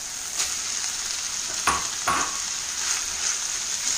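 Minced meat frying in a pan with ginger, garlic and green chilies for Hyderabadi lukhmi, a steady close sizzle with a few louder stirring scrapes partway through, no talking.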